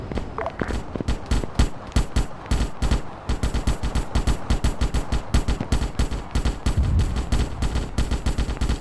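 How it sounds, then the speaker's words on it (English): Machine gun fire in a Starship Troopers game, loud rapid bursts of evenly spaced shots with brief gaps, close and punchy, repeating steadily with no talk. "looks like they are shooting back because I'm seeing hits right there"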